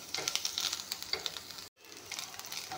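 Okra sizzling as it fries in a pan, a bright crackling hiss with small pops, close by, briefly cut off partway before the sizzle resumes.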